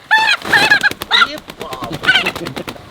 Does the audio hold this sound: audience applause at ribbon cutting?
no